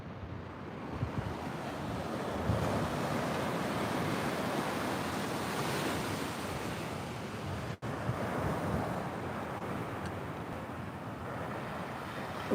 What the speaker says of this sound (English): these are boogie board waves